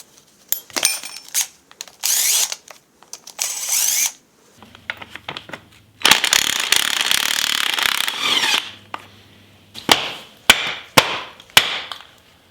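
Tools work on a Honda CR125 two-stroke engine as its cases are split apart: sharp taps, rasping and ratcheting bursts, and a stretch of steady grinding with a low hum, all loud and close.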